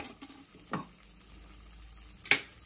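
Fresh cream is added to a pan for masoor dal coriander soup and fries with a soft, steady sizzle, broken by a few short stirring scrapes, with no talking.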